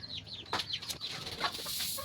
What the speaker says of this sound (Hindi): ये देखिए हमारी मुर्गी।